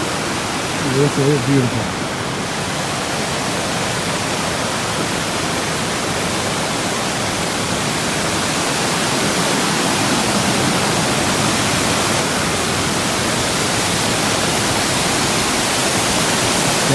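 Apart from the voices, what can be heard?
waterfall at Long Falls off the Appalachian Trail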